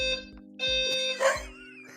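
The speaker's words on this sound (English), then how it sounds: "Everybody can hear you bark." A dog barks a few times, loud and close, over a steady high alarm-like electronic tone in an indoor room.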